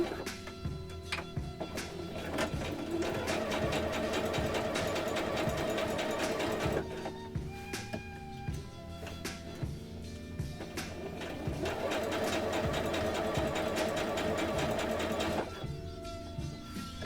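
A sewing machine stitching the back portion of a handmade plushie, running in rapid mechanical bursts with short pauses between runs, close and steady.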